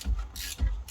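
A ratchet wrench works a 10mm bolt on a Citroen C5 X7 during rear wheel bearing replacement, giving two quick close ratcheting clicks in sequence.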